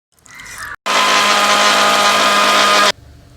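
A mixer grinder blitzes bird's eye chillies in a village kitchen: a short whir, a pause, then a loud, steady high-pitched roar lasting about two seconds before cutting off abruptly.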